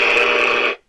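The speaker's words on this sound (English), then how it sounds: "Sorry, that's my alarm for the Sony press conference." A phone alarm goes off at the E3 2015 expo: a loud, steady buzzing electronic tone that holds for under a second, then cuts off abruptly.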